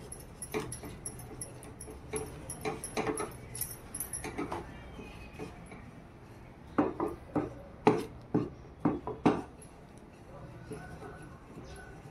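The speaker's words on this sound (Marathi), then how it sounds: "आता असं हळूहळू आपल्याला सतत हे ढवळायचं आहे" A spoon scrapes and knocks against a pot while rice flour dough is stirred steadily, giving irregular clattering bursts that grow sharper and more rhythmic toward the end.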